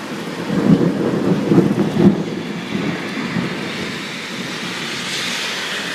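Heavy rain pours steadily while deep thunder rumbles loudly near the start, then fades to a continuous downpour roar with no talking.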